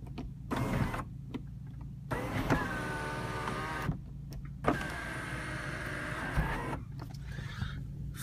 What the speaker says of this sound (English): Electric everything. Tilt side sunroof.